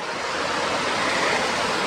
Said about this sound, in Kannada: ಬಂತು ದೊಡ್ಡ ಅಲೆ ಬಂತು ಗುರು